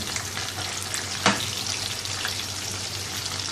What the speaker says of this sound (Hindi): ये देखिए, चिकन फ्राई हो गया।